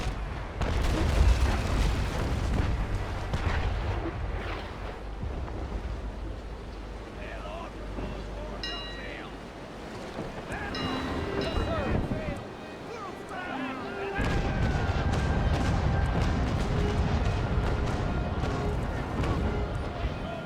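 Ship cannons fire chain shots in the naval battle game Naval Action, heavy booms and rumbling over wind and water, with someone talking throughout.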